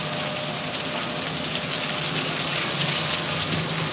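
Water left running from a tap, pouring in a steady, continuous rushing stream that stays close and fairly loud for the whole stretch, with no talking over it.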